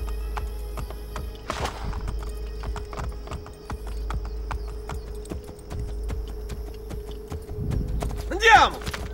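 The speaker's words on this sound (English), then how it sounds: "I really want to get off this horse right now." Horse hooves clip-clop in a steady trot in Assassin's Creed Brotherhood, set against game ambience and faint talk. A short whinny comes near the end.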